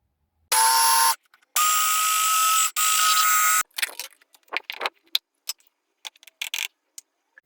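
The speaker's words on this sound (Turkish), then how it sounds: "2 yemek kaşığı kadar sarımsaklarımızı güzelce çekiyorum krem şekline gelene kadar" An electric chopper grinds garlic to a paste in three loud, high whining bursts. Scattered clicks and rattles of the container follow, all close by, with no talk.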